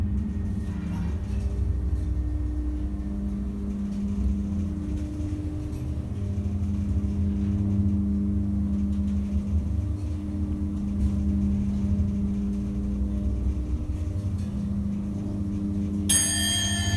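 A 1980s Westinghouse elevator at Carnegie Mellon University travels between floors with a steady low motor hum and drone, then a sudden bright ding right at the end.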